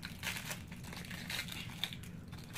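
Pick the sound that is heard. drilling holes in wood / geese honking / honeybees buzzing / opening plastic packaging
opening plastic packaging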